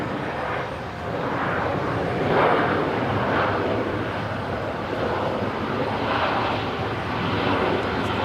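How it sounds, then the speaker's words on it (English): A Jetstar airliner touching down at Brisbane Airport after arriving from Newcastle makes a steady, broad engine roar with slowly swelling surges of rushing noise, fairly loud and unbroken, with no talk. "Jetstar 484 touching down there from Newcastle"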